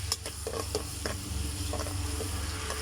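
Onion, ginger and tomato sauté in a pot for mung bean stew, a quiet low sizzle with repeated light scrapes and clicks of stirring.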